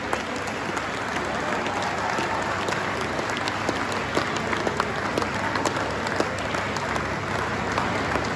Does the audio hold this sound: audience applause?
yes